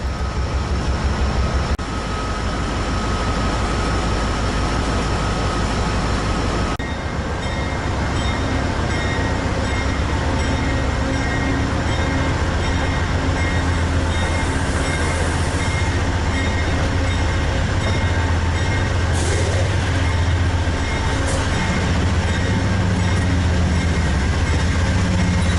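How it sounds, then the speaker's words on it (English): Passenger locomotive number 86 pulls its train out of the station at Pittsburgh, a loud continuous rumble of engine and rolling wheels with occasional squeals and clanks, heard close and steady throughout. "we get a few shots of number 86 as it leaves the station with its train"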